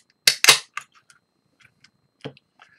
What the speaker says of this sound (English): Flip top it.